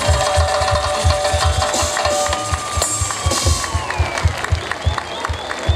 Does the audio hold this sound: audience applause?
yes